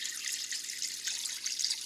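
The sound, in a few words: water recirculating and dumping back into chicken watering tank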